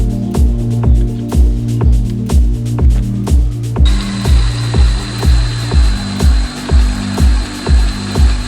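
A power tool cuts a hole in the metal body of a 1968 BMW 2002, making a loud, close, rhythmic chattering rasp that pulses steadily, then turns harsher with a high whine partway through.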